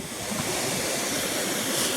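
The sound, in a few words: man-made waterfall in a park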